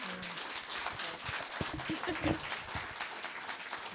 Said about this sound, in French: Donc je vous propose de les applaudir chaleureusement.